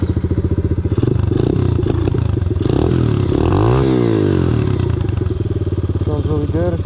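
A Honda CT70 clone trail motorcycle with a newly fitted exhaust runs steadily and loudly up close, its engine note rising and falling as it revs and pulls away.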